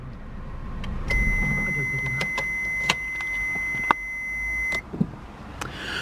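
A 2005 Honda Civic Type-R being switched off, with a low engine rumble that cuts out, a steady electronic chime tone, and a few clicks and soft knocks, as a voice speaks faintly nearby.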